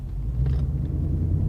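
Deep, steady rumble of a naturally aspirated 5.0 V8 in a 2021 Ford Mustang while driving, heard from inside the cabin as a continuous low drone with no talking.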